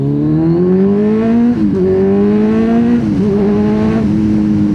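A Kawasaki Z1000 R inline-four 1000cc motorcycle with a new exhaust revs up loud and close, its engine note climbing steadily through gears with brief dips at each shift.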